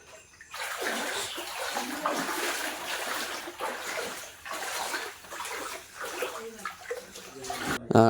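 Flood water pours steadily into a house at night, a continuous loud rushing and splashing that fills the space with a few brief dips before a sharper splash at the end.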